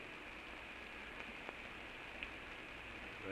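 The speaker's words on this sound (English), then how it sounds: "Rain beats in his face." Steady rain beats down on a surface in a dense, even hiss, close and soft, with a few scattered drop taps and no speech.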